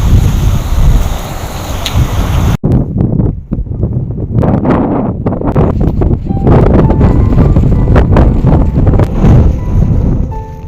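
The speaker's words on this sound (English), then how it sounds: "Seriously, it is so windy and cold." Strong, cold wind at Beijing's Olympic Forest Park buffets the microphone in a loud, roaring rush with gusty swells, and no one speaks.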